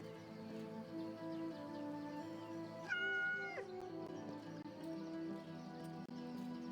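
A cat meows in the video game Yes Your Grace, one clear rising call standing out over a quiet background of tonal game music.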